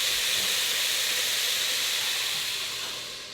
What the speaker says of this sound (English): I already chopped my bacon. Just gonna put it in here. Get it popping.